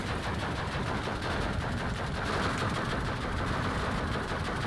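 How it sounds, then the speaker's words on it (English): In a competitive WW2 real-time strategy game, dense battle fire rattles nonstop at medium loudness, with rapid overlapping shots and blasts and no pause. "Possibly it's my own artillery firing here."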